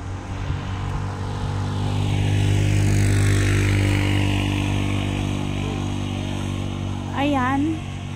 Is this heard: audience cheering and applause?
no